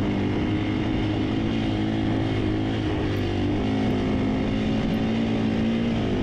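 A 450 enduro motorcycle engine straining up sand dunes in Merzouga, loud and close, with a continuous throaty drone that shifts slightly in pitch as the throttle varies, no talk.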